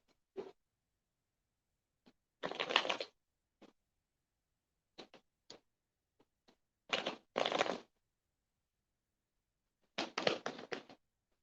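Short bursts of soft riffling and tapping, like tarot cards being shuffled close by, separated by quiet pauses.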